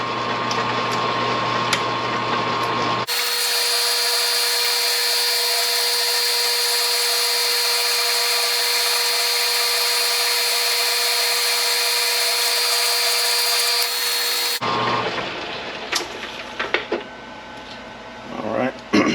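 A machine tool takes a cleanup pass of about a tenth of an inch on a motorcycle dirt bike CDI test fixture, a loud steady cutting drone running about eleven seconds, with quieter shop noise before and after.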